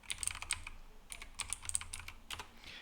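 Passphrase typed on a computer keyboard, quiet rapid clusters of key clicks in short bursts, close and faint, with no talking.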